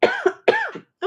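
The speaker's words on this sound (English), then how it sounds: "I'm going to have a coughing fit" Two harsh, close coughs in quick succession, the second as strong as the first, with another starting just as it ends.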